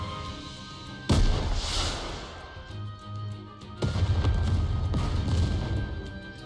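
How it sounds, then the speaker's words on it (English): A rocket launcher shell bursts in a snowy field in the Nikke game: two loud, booming blasts about three seconds apart, each with a rumbling, crackling tail, no voices. "a shell flies from the rocket launcher. And a resounding explosion causes the entire snowfield to be blanketed in thick plumes of white smoke."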